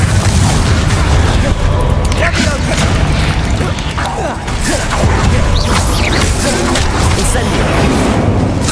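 A Confringo explosion spell in the video game Hogwarts Legacy produces a loud, continuous booming roar with a churning low rumble and scattered crackles, dipping briefly midway before surging again.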